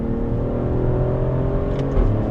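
A 2024 Alfa Romeo Stelvio Quadrifoglio drones steadily from inside the cabin while driving, its engine note holding fairly constant and slightly shifting near the end, with no talk.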